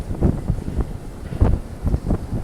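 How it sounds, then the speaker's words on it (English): Strong gusts from Typhoon Hato in Hong Kong buffet the microphone on the way up to the big Buddha, making loud, rumbling bursts of low noise that surge and ease in quick, irregular pulses. "Up to the big Buddha, it's gonna be really windy."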